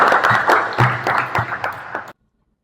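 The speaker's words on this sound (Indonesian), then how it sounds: "kasih tepuk tangan untuk semuanya." A classroom of students claps together in brief, uneven applause that fades and cuts off abruptly into silence after about two seconds.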